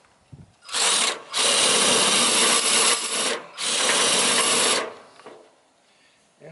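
A cordless drill with a dull 1-inch bit bores into wood in three long, loud grinding bursts separated by short pauses, with a rough rasping texture as the bit cuts.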